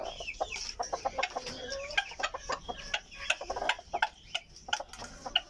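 Several chickens cluck and chatter close by in a busy, irregular stream of short calls, with occasional ticking sounds mixed in.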